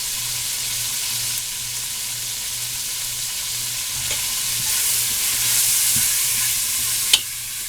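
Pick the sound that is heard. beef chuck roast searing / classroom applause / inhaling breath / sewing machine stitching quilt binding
beef chuck roast searing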